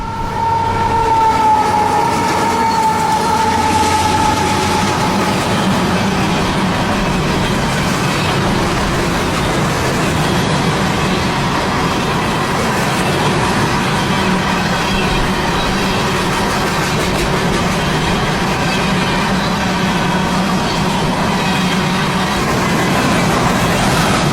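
A long, empty CSX coal hopper train rumbles steadily past northbound out of Palatka, Florida, loud and continuous, with a sustained horn-like tone early on and grinding wheel noise throughout.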